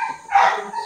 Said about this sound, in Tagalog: O yan, ang ingay ng aso nagalit sa akin